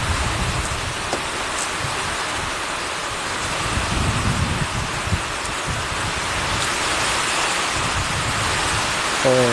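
Steady, heavy rain falls continuously, a dense hiss of drops pattering on surfaces with no voices present.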